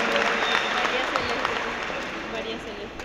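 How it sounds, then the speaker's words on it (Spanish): A church congregation applauds, a steady wash of many hands clapping that fades slightly, with a voice talking over it. "Un aplauso para la mamá de ella también."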